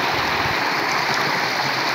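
A strong mountain stream rushes steadily, a dense, unbroken wash of flowing water that stays loud and close for the whole stretch, with no voices over it.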